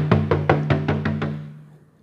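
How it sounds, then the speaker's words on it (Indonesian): A stretched screen-printing screen coated with dried emulsion is tapped about seven times at an even pace, each hit a hollow drum-like thump with a ringing tone that fades, close and alone with no talk. "Suaranya seperti ini kalau sudah kita beri emulsi,"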